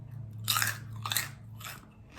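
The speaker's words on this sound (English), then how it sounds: "They have less of a puff to them and more of a crispy crunch." Crispy fried beef tendons being bitten and chewed up close: four sharp, loud crunches spaced roughly half a second apart, each a brief crackly burst, with no talking.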